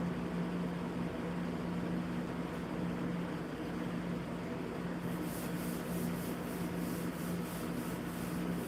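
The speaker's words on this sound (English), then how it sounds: "I was just showing everybody how I cleaned my rails this morning with the sanding pad" A sanding pad rubs steadily along model train track rails, a soft continuous scraping with a faint hum underneath and no pauses.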